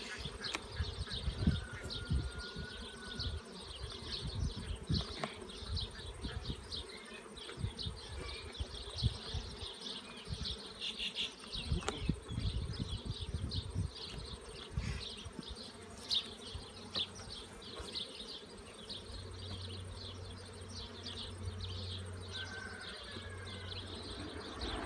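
Honey bees swarm and buzz around an open hive with a honey super, a dense, continuous droning hum close by, with individual bees zipping past the ear and a faint bird call in the background.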